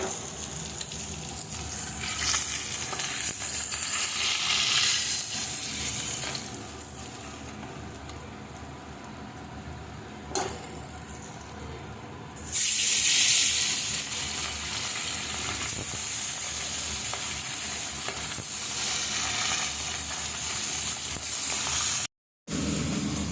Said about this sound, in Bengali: এখন আমি বরুলি মাছটাকে হালকা করে ভেজে নিচ্ছি